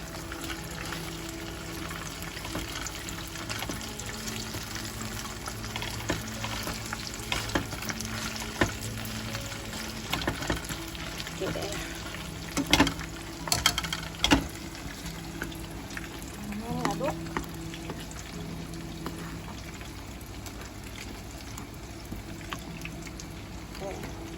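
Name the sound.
frying Indonesian corn fritters (bakwan jagung)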